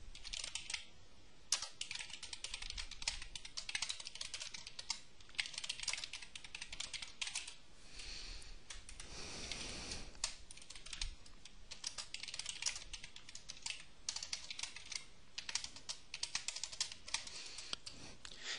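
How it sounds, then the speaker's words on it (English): Steady clicking of computer keys goes on for the whole stretch in quick irregular bursts, close and dry, with no one speaking. "There'll be a little bit of typing here."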